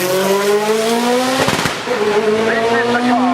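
Peugeot Pikes Peak race car engine at the Goodwood Festival of Speed, a loud steady drone with a brief burst of crackles midway, heard close.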